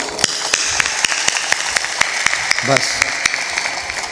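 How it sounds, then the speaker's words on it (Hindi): Listeners at a spiritual discourse clap in a steady, evenly spaced rhythm of sharp, close claps, while someone speaks over the clapping. "तालियां थोड़ा जोर से पीटो।"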